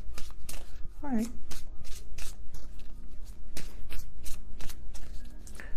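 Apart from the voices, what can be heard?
tarot cards being shuffled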